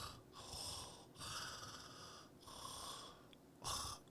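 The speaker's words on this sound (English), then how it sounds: "If this person breathed, the main character breathed like a fat person breathes." Heavy, rasping breathing effect from the Splinter Cell video game: four long wheezy, snore-like breaths in a slow rhythm, close and fairly loud with no talk over them.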